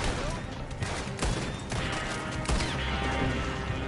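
Rapid gunfire from the player's own weapons in the Red Dead Redemption 2 video game crackles in dense, overlapping bursts over a steady din of game action, with several sharper, louder shots standing out near the start and middle.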